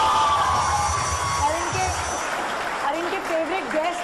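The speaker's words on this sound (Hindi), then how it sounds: "बहन भाई मिलके तालियां बजा रहे थे" A studio audience on a Pakistani morning show claps steadily, with scattered cheering mixed in and voices talking over the applause.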